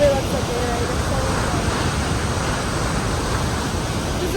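Broadband steady rush of a waterfall, up close at the end of a hiking trail, a continuous loud roar of falling water that stays even throughout with no pauses.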